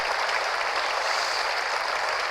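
Canned applause from a life skills training CD inside a video game, a dense, even wash of clapping that holds steady throughout at a fairly loud level, with no voices.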